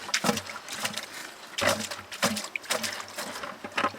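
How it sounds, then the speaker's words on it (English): Water trickles and splashes through a Royal Manufacturing highbanker sluice loaded with dirt at a gold-prospecting setup, arriving in uneven, close, moderately loud gushes and spatters with brief pauses between them. "Then we just sprinkle a little bit of water up at the top there."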